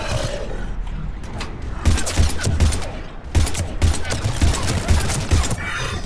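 Rapid bursts of gunfire from a sci-fi shooter firefight on Mars, with sharp repeated shots in clusters over a steady battle din, loud and close throughout.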